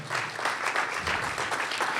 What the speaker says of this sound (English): So for a final round of applause for all the commitments that have been made and that will be made going forward